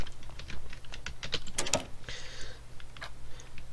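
Arrow keys clicking on a computer keyboard during a point-and-click game, a quick run of light, close taps with a couple of louder presses near the middle.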